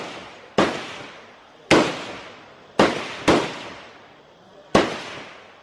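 Gunshots at the firing range at the Cu Chi Tunnels in Vietnam: five very loud, sharp reports at irregular intervals, two close together, each ringing off quickly with no talk.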